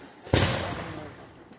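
A single firework bursts with a sharp, loud boom during a small backyard fireworks show, then its rumble and crackle fade out over the next second.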